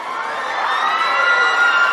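Students in a college classroom clap and cheer together, a dense, loud burst of applause and shouting that lasts the whole short stretch.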